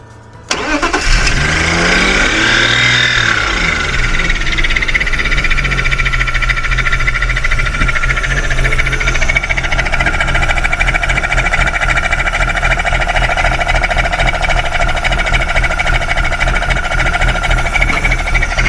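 A BMW drift car engine cranks briefly and fires up, then settles into a steady, close, loud idle with a continuous rumbling hum that runs on alone.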